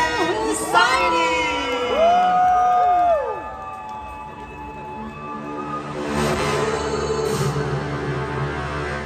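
A crowd at a 30th anniversary concert in Pavilion Mall, Kuala Lumpur, cheers loudly with rising whoops, shouts and whistles over a steady roar that thins, then swells again near the end.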